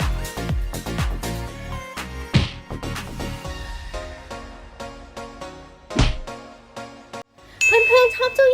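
A notification bell sound effect rings near the end, a bright tinkling ding layered over ongoing upbeat music.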